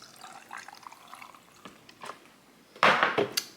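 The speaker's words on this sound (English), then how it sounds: "I'm gonna add my milk in here." Oat milk poured from a carton into a cup of ice, with a steady liquid trickle and crackling ice that swells into a louder splashing pour near the end, close to the microphone.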